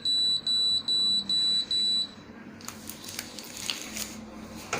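A Hannochs 20W UVC ozonizer switching off gives five short, evenly spaced electronic beeps over about two seconds, clear and close, followed by quiet room noise.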